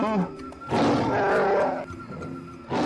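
A Wookiee in the Star Wars game Knights of the Old Republic lets out a loud, rough growl that swells for about a second, set among speech-like game voices.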